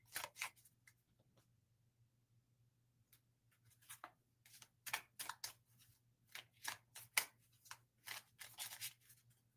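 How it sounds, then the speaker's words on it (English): Tarot cards being shuffled by hand up close, a quiet run of crisp riffling and snapping bursts in uneven clusters over a low steady hum, with no talk. "I'm sitting here shuffling"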